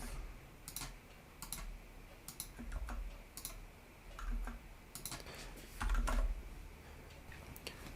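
Computer keyboard typing in irregular bursts mixed with occasional mouse clicks at a desk, close and fairly quiet, with brief pauses between flurries of keystrokes and no speech.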